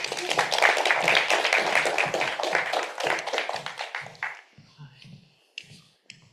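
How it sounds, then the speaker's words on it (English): Dense applause and clapping fills the first four seconds, then thins out to a few scattered claps before fading into quiet. "So please give Calina a warm round of applause"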